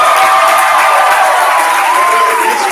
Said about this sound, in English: everybody at Leesville High School, please give your alumni a warm round of applause